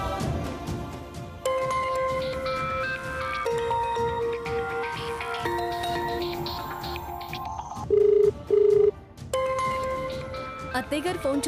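A telephone rings in a domestic TV drama scene, two short electronic ring bursts standing out over background music and dialogue.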